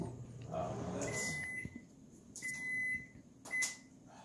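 A microwave oven beeps while its turbo defrost setting is entered, three quiet, evenly spaced electronic tones with soft handling clicks between them in a kitchen.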